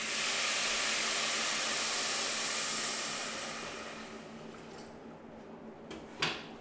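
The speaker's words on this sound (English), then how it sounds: "There should be a good little sizzle." Water poured into a hot pan with rendered pork fat hisses in a loud, steady broadband sizzle that gradually fades over several seconds, ending with a brief clink.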